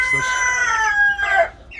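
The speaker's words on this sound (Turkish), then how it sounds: "1, 2, 3, 4, 5, 5 tane şey var tavuk, 4 tane de horoz var." Farm coop poultry, five hens and four roosters: a rooster crows loudly and close in one long drawn-out call, with a brief cluck at the start and faint bird chatter fading at the end.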